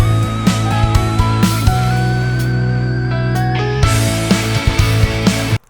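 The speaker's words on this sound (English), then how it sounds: "It's basically just an extended chord strum." An indie J-rock arrangement holds an extended strummed guitar chord as a breather before the chorus, loud and sustained with layered band tones and a few percussive accents, ending abruptly.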